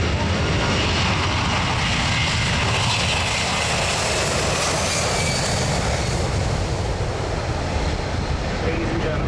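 A Lockheed JetStar flies at the Avalon Air Show, a loud continuous engine roar with broadband rushing noise that holds steady throughout, close and dominant, with no speech over it.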